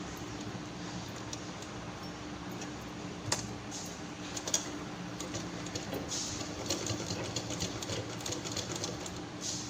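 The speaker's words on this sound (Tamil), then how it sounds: "திரும்பவும் இங்கேருந்து இங்கே வரைக்கும் ஒரு தையல்." A sewing machine stitching a fabric pouch runs in a steady, fast, even mechanical whir with faint clicks, fairly quiet and close, with no voices.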